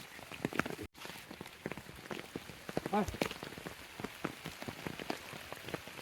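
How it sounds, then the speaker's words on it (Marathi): Light rain falls in the countryside during the first rain after weeks of dry weather, a soft irregular patter of drops close by. Footsteps shuffle through it and a short tonal call rises midway. "पावसाचं वातावरण झालं आता पडतंय थोडा थोडा."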